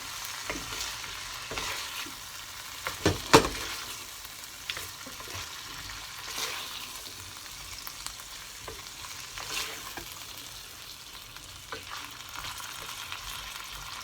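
Lardons and potatoes frying together in a pan for Auvergne-style truffade, a continuous low sizzle with intermittent scraping stirs and one louder clatter near the start.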